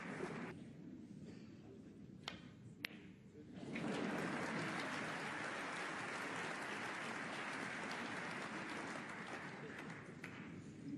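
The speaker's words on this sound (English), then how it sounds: "the crowd are actually in raptures" A snooker crowd at the German Masters semi-final breaks into sustained applause, a dense steady clatter of clapping that swells after a few seconds and carries on, with commentary voices beneath.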